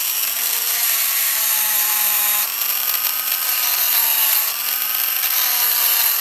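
A small Dremel rotary bit elongates a hole in a Traxxas Slash RC car part, making a loud, steady high-pitched whine that dips briefly twice as the bit bites under load. No one speaks.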